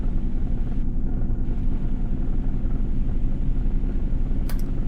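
A Volvo truck's engine drones in a steady, loud low rumble inside the cab while the 12+2 transmission is shifted into 6 low. A brief higher click comes near the end, and no one speaks.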